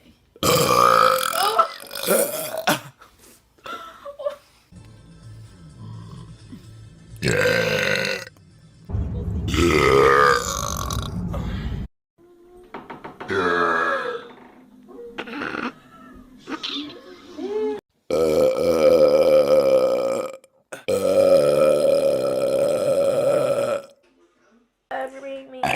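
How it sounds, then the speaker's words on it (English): Repeated loud burps from several people, some long and drawn out, in a rapid series of bursts separated by short gaps, with brief talking mixed between them. "Burp"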